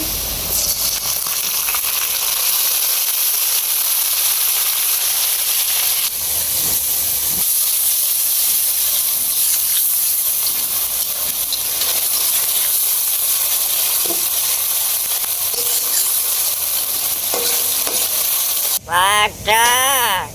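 Onion, garlic and ginger paste sautéing with turmeric and chili powder, a loud, dense, continuous hiss and sizzle held steady for about twenty seconds, with a brief burst of other noise near the end.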